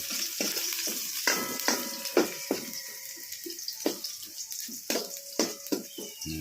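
Onion fries in a pan after browned ginger and garlic, a soft sizzle broken by sharp clinks and knocks of a utensil stirring against the pan at an uneven rhythm.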